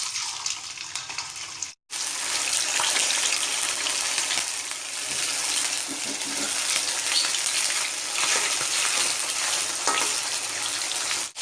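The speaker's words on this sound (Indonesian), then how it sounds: "Setelah panas, ayamnya goreng dulu sebentar biar nanti pas ditumis nggak hancur" Chicken pieces fry briefly in hot oil for a melinjo-leaf fried chicken dish, giving a loud, steady sizzle with a short break near the start before the crackling resumes.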